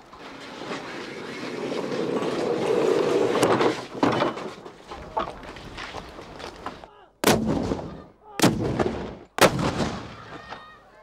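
Cannon fire booms from Portsmouth's 19th-century forts, a dense rolling barrage followed by three separate sharp, loud blasts spaced about a second apart.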